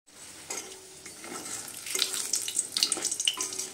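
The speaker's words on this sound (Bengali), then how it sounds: "তো দেখো কড়াইয়ে সাদা তেল দিয়ে বড়িটাকে ভেজে নিচ্ছি প্রথমে আমি।" Bori, small dried lentil dumplings, frying in white oil in a kadai, with a steady close sizzle and occasional stirring scrapes and crackles rising in intensity over a few seconds.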